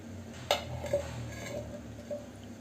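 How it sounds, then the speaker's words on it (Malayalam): Cut mango pieces drop into a mixer jar, giving a few soft clinks and taps against the jar in a quiet kitchen. "ഇനി ഈ കഷ്ണങ്ങളാക്കിയ മാങ്ങ ഒരു മിക്സിയുടെ ജാറിലേക്ക് ഇട്ട് കൊടുക്കാം"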